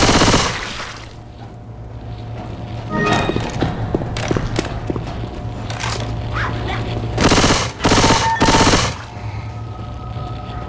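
Loud bursts of automatic gunfire and heavy thuds erupt repeatedly in the zombie shooter game Left 4 Dead 2, with rapid rattling volleys set against a steady low game hum.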